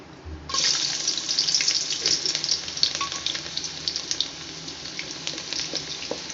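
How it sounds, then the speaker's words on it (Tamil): Garlic drops into hot oil in a wide pan and sizzles loudly and steadily, a close, bright crackle that holds for several seconds with no talking. "அகலமான பாத்திரத்தில் எண்ணெய் ஊற்றி வச்சுருக்கோம் இப்போ நம்ம வெள்ளைப்பூடு போட்டுக்கிறோம்"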